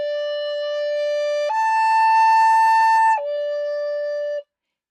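A recorder plays a clear, steady tone that jumps up a fifth to a brighter, louder note, holds it, then drops back to the first pitch before stopping; pure, sustained and alone.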